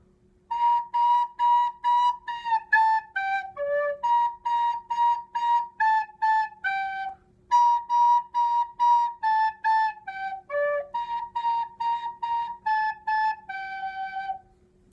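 A recorder plays a melody solo, a run of clear, evenly tongued whistly notes in short phrases with brief breaths between them, close and steady with no talking.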